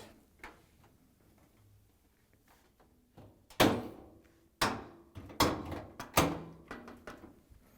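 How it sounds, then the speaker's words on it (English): Metal knocks and thuds as the front panel of a Hotpoint dryer is set onto its bottom hinges during a bearing retainer repair, first faint ticks, then several louder clunks in close succession. "I'm going to bring that front panel in and place it onto the bottom hinges"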